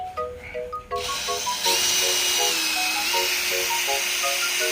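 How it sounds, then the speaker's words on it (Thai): A small cordless impact drill hums with a high, steady whine as it spins a sponge polishing pad, starting after a few soft tones and running continuously. "ใส่แป้นขัดฟองน้ำแบบนี้ก็เอามาขัดรถได้อีก"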